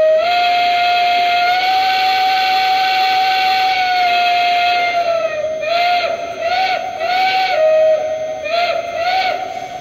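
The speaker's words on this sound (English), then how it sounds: "I'm going to go and blow the whistle real quick" A Lionel Legacy Long Island H10 model steam locomotive whistle blows loud and close, a long steady shrill tone followed by several short toots over a constant hiss of steam.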